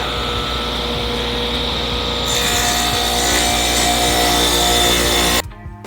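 A power saw or router cuts grooves into a small wooden block, about 4 by 6 inches, angled at 45 degrees. The loud, steady whine runs continuously, gets harsher partway through, then stops abruptly near the end.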